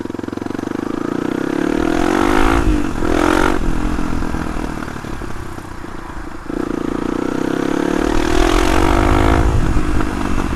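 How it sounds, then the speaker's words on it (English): A Suzuki DR250S dual-sport motorcycle fitted with a loud Dominator R aftermarket exhaust, revving up hard, easing back and climbing again, the exhaust blaring close by with a rough, raspy edge. "I don't mind louder exhaust, but not to this extent."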